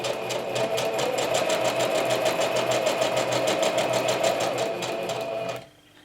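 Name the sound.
sewing machine stitching vellum scrap pouch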